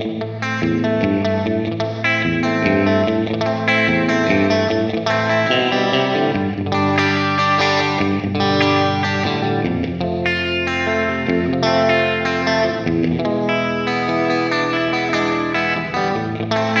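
Electric guitar played through a JHS 3 Series Octave Reverb pedal with the reverb switched off, a continuous, dense, effected chordal passage that stays loud and steady throughout, with no talking.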